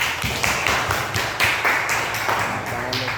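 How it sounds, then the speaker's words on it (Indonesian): Schoolchildren in a classroom clap their hands together in quick, rhythmic bursts during a traditional-games lesson, loud and close, with voices mixed in. "Tepuk tangan untuk kita semua."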